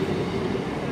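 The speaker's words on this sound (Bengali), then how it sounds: "দেখুন এগুলো হচ্ছে কলকাতার যে লোকাল ট্রেন" A Kolkata local train runs past with a steady, dense rumble and a low droning tone, moderately loud and continuous, no voices over it.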